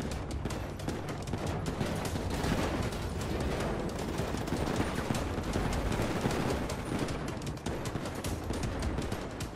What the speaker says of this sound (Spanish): Tiro con ese, tiro.